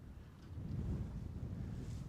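Wind gusting outdoors on a February fishing outing, a steady low rumble buffeting the microphone that swells slightly partway through, with no talking.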